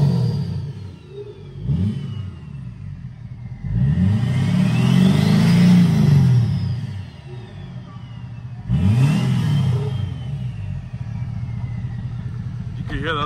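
Ford F250 diesel fitted with compound turbos, revving in repeated swells with a rising turbo whine over the engine, close and loud, with people talking nearby.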